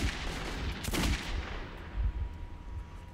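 Pistol gunfire in Metro 2033, a couple of dull thudding shots in the middle of a dense, noisy game soundscape with a low rumbling background.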